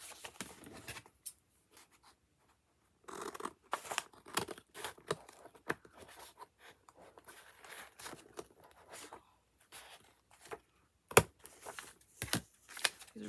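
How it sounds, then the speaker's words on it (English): Scissors cut paper in short, uneven bursts of snipping, crinkling and crunching, close by, with quiet gaps between them and no speech. "These are some really good scissors. Won't hardly cut"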